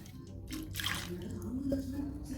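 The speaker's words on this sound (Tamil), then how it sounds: "புளிக்கு எவ்வளோ தண்ணி வேணுமோ ஊற்றிக்கலாம்" Water pours steadily onto tamarind for rasam for a couple of seconds, a soft liquid splashing close by with faint kitchen noise underneath.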